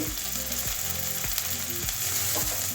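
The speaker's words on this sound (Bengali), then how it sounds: "এটাও কাঁচা গন্ধ দেওয়া পর্যন্ত ভেজে নেব" Ginger-garlic paste sizzles and fries steadily with onions in a pan for an egg and potato curry, a continuous loud crackle broken by a few rhythmic scraping stirs with no talking.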